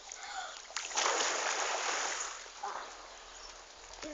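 A child dives headfirst into pool water, a loud close splash followed by sloshing and churning water that fades, with a second smaller splash near the end.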